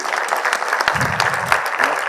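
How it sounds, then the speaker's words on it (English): A summit audience applauds a guest speaker with dense, continuous clapping, and a voice briefly rises beneath it. "A big round of applause for her, please."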